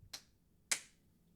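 Two sharp hand claps about half a second apart, close and crisp, marking the start of a recording in an old-school Hollywood slate style, with quiet room tone between and no talk.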